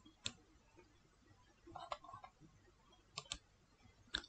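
A few faint, sharp mouse clicks while working in Outlook on a computer, scattered singly and in a quick pair across a quiet room background.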